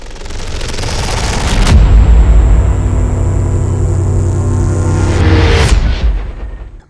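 A heavy cannon blast roars in abruptly after a quiet start, sustaining a loud, rumbling boom with a long sizzling tail before ending in a sharp final crack; a dramatic sound effect for a Soviet cannon mounted in space.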